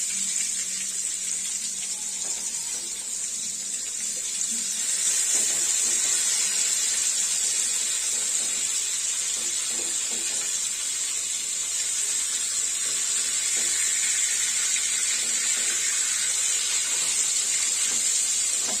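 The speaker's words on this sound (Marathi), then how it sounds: "मी आता बांगड्यांना परत दुसऱ्या बाजूने परतून घेते" Mackerel (bangda) fries in a pan after being flipped to brown the second side, giving a steady, continuous sizzling hiss that holds evenly throughout with no voices.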